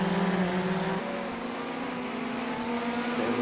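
A Ferrari 488 GTE race car engine running steadily in iRacing at Daytona, a continuous buzzing drone that shifts pitch once as the car changes gear, moderately loud with no talk.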